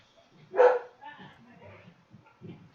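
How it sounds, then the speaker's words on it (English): Dogs bark in a short burst inside a Farm Simulator 17 game session, with one loud bark up front followed by fainter yips and low rumbles. "Sorry about the dogs."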